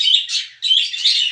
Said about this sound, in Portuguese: A rosela que nasceu,